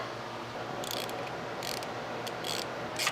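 Ratchet clicking in short bursts while an AC compressor on a 2006 Nissan Maxima is bolted back into place, quick ratcheting strokes close up over a steady low mechanical hum.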